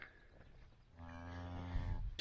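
A cow on a working farm gives one long, low, loud moo close by, rising and swelling before breaking off.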